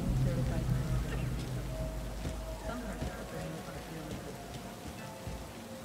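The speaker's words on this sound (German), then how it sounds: "hier regnet es durch die Decke" Rain drips through a ceiling in the video game Cyberpunk 2077, making a steady, dense patter of falling water that fills the scene at moderate loudness, with a faint murmur of voice underneath.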